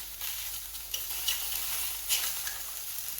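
Plant-based sausages cook in a dry pan with no oil, giving a soft, steady sizzle with a few light clicks and pan knocks, close but fairly quiet.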